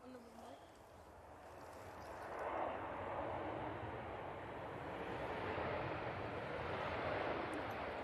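A plane landing at Manchester Airport, heard as a distant broadband jet roar that swells and holds over several seconds while people talk nearby.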